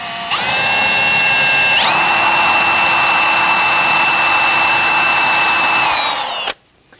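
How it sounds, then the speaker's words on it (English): Power drill fitted with a stepper bit boring out a seized rear ABS wheel speed sensor on a 2006-2014 Honda Ridgeline, a loud high-pitched whine that rises in pitch and holds steady for about six seconds before cutting off. "I'm simply starting with a stepper bit to go ahead and do the best I can to locate the center of this here"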